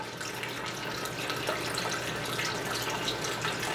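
Steady stream of water poured into a cooking pot of seasoned oxtails, a continuous splashing gush at moderate loudness with no speech.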